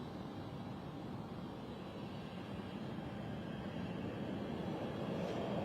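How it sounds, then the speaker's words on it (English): Embraer Phenom 300 jet departing London City Airport, a steady distant rumbling roar that holds evenly and slowly grows a little louder, with no voices. "This will be the Inverness departure, which is a Embraer Phenom 300"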